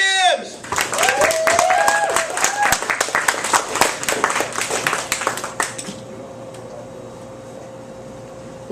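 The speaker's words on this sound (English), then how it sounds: "Put your hands together for Marz Timms!" Enthusiastic audience applause and clapping at a comedy night in a bakery cafe greets comedian Marz Timms, dense and close for about six seconds before dropping to a quiet room hum.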